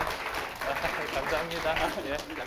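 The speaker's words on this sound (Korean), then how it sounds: "여러분 박수로서 환영해 주십시오." An audience at a youth talk concert gives a welcoming round of applause for a guest, a steady wash of clapping with voices talking over it.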